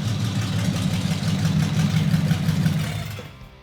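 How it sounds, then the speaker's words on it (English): Custom-built car engine idling close by with a steady, deep rumbling throb, partial exhaust fitted, running evenly before dropping away at the end. "That's the reason I chose this engine from the start, because of the sound."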